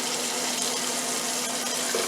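Water runs from a kitchen tap for making bread, a steady, close hiss of flowing water that holds unchanged throughout, with a faint tonal hum underneath and no one speaking.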